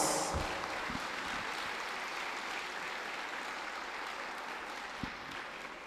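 A school audience at a 72nd anniversary speech and prize giving day breaks into sustained applause, a broad continuous patter of many hands with a few louder thumps near the start and end.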